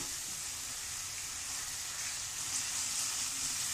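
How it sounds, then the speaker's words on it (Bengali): Masala spice paste fries in a pan for a baim fish and potato curry, giving a steady, soft, even sizzle throughout with no talking. "আবার মশলাটাকে কষাই লাইম"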